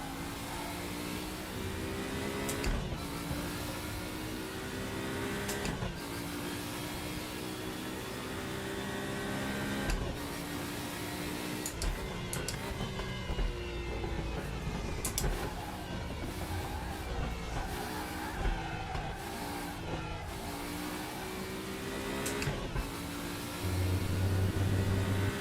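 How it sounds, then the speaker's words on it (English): An Opel car engine works under throttle, its steady mid-pitched drone rising and easing in repeated revving surges over about 25 seconds, heard close and continuous with no talk. "You have to be well careful on the throttle with this Opel."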